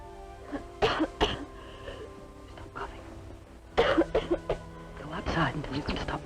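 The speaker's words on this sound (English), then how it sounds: "Until you can stop coughing." Several sharp, harsh coughs and throat-clearing bursts from a 1956 television drama, loud and close, clustered at the start and again midway, with speech and room noise between them.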